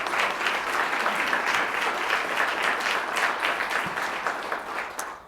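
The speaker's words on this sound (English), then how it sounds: "So if we can get a big round of applause for Heather, Becky, Laura, Anna," An audience at a chamber of commerce annual meeting claps in sustained, dense applause that holds steady for several seconds before easing off slightly at the end.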